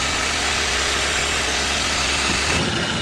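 A Toyota Avanza engine idles steadily while warming up, with compression leaking into the radiator coolant. It gives a continuous close, loud mechanical hum with no talk.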